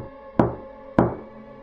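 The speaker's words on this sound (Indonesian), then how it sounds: "Namun, malam berikutnya, ketukan itu datang lagi." Two hollow knocks on a door sound in a horror story, spaced about half a second apart, close and sharp against a faint hum with no voices.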